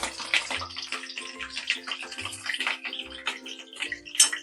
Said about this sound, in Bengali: লাল লাল করে ভেজে আমি তুলে নেব